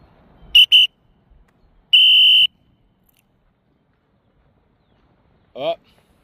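A coach's whistle at sprint training: two short sharp blasts, then after a pause one longer steady blast, loud and close, with a brief shout a few seconds later.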